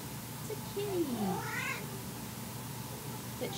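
An African grey parrot imitates a cat's meow: one clear, close, rising-and-falling mew in the middle of the clip, set against a low, steady indoor background.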